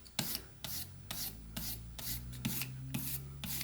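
A whittling knife is rubbed on a 2,000 grit sharpening stone in quiet, repeated rasping strokes, about two a second, close by and fairly soft.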